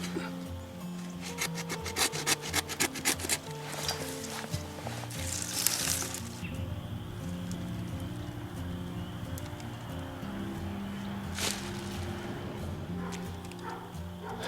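A Rose of Sharon branch being sawn during pruning: quick rasping back-and-forth strokes for several seconds, then quieter rubbing and a brief crack, with a dog barking faintly in the background.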